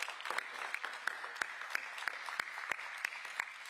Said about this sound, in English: Yes, you can clap to that.